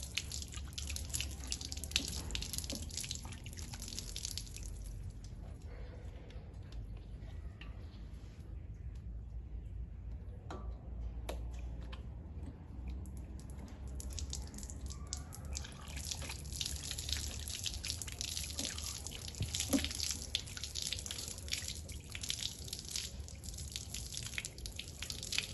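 A tap runs with a faint, steady trickle of water while a faucet is washed with soap, with soft drips and small handling sounds, quiet throughout.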